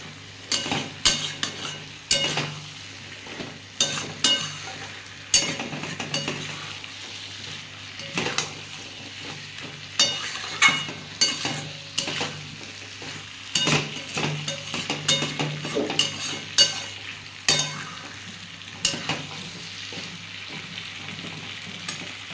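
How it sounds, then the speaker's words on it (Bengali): Fried pumpkin curry being sautéed in a pan, with a continuous close sizzle and regular scraping strokes of a spatula stirring the vegetables, steady and even throughout with no talking. "এবার যে কুমড়োটা ভেজে রেখেছিলাম সেটাও দিয়ে দেবো। সব শুদ্ধ একটু কষিয়ে নেব।"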